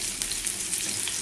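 Kofta fries in hot oil in a pan, giving a dense, continuous crackling sizzle that holds steady and close throughout, with no voices.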